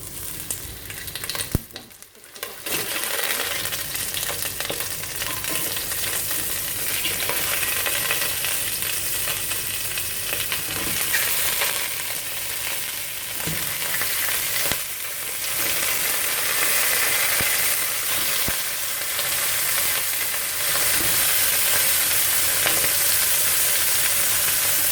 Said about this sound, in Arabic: اول ما الزبدة والزيت يسخنوا جامد عشان نعرف نشوح الارنب كويس